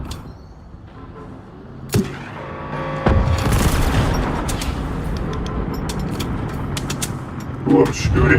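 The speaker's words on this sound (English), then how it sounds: "Ooh, I'm shooting." Gunfire from the Generation Zero video game: several sharp shots and short bursts ring out over a continuous rumbling backdrop, with the loudest reports arriving early and again near the end.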